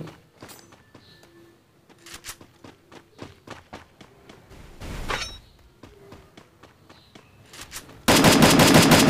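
Battle royale video game gunfire: scattered single shots and short bursts crack out alongside footsteps, with a dense burst of rapid automatic fire loudest at the close.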